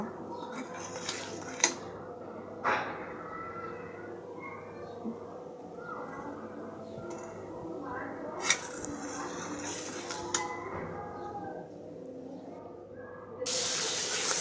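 Spices with chili powder sizzle quietly in a pan for a Bangladeshi dish, a soft continuous hiss punctuated by occasional sharp clinks of a utensil against the pan, ending in a louder burst of frying.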